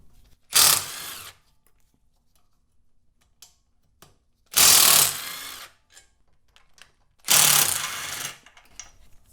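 Three short, loud ratcheting bursts from a wrench loosening 6 mm bolts on the side pipes of a Honda CB750 motorcycle, spaced a few seconds apart with quiet gaps between them.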